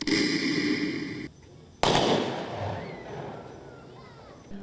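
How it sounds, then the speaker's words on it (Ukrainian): Soldiers fire a rifle volley as a salute at a memorial ceremony for fallen soldiers: one sharp loud crack ringing out into a long fading echo, after a spoken passage that stops abruptly. "Залпом салюту військові віддали честь полеглим солдатам."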